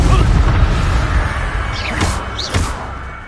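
Confringo fire spell explosions from the Hogwarts Legacy video game: heavy booming blasts over a dense rumbling battle din, with two sharper bursts toward the end.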